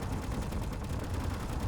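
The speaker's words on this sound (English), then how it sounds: "There's a lot of gunfire." Dense gunfire from the space-building survival game Space Engineers, a steady broadband barrage of overlapping shots with no clear gaps, sounding distant and fairly quiet throughout.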